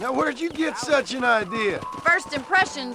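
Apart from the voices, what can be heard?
No everyday noises stand out.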